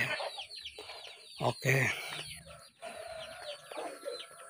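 Chickens cluck and a rooster calls inside a village chicken coop, several birds overlapping in busy bursts close by, with a brief voice in the background.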